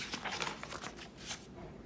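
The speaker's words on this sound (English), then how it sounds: "I'm gonna page turn." A single page of an old X-Men #1 comic book turns with a soft, close papery swish and rustle, lasting about a second before fading to quiet.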